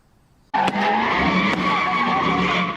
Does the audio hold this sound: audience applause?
no